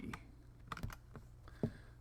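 Computer keyboard being typed on in short, irregular bursts of clicky keystrokes, close but quiet over a faint background hum.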